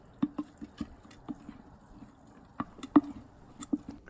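Fermenting makgeolli rice porridge on its second day, fully liquefied, bubbling with small irregular pops and soft drips, quiet and close with no voices.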